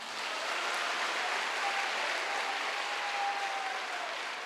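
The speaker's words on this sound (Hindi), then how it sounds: "विश्वास करने वाला ताली बजाइएगा।" A congregation at a Christian convention session claps together in a dense, steady wash of applause that fills the space without pause, no voices rising above it.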